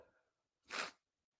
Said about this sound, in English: I ain't want y'all to see me sneezing.